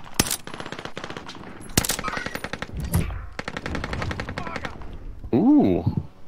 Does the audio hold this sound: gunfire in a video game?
yes